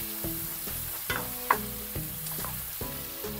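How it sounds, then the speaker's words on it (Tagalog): Pork being sautéed for Kapampangan asado, with steady sizzling in a pan and a series of sharp utensil scrapes and knocks at irregular intervals, loud and close with no voices. "Gisa lang natin siya."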